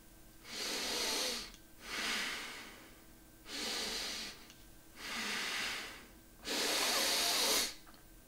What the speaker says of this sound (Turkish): burnumdan havayı alırken ağzımdaki biriktirdiğim ekstra havayı da dışarı pompalamış oldum